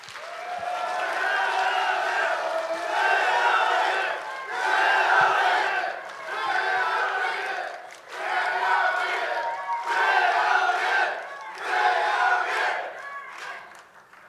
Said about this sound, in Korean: 최영일 후보 큰 박수로 맞아주시기 바랍니다